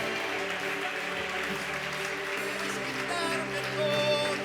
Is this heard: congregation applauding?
yes